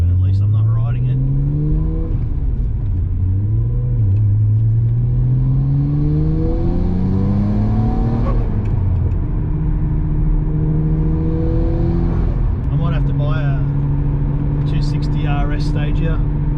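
A Nissan Stagea 260 RS Autech with an RB26DETT engine pulls through the gears while driving, revs rising and dropping with each shift, loud and close from inside the cabin.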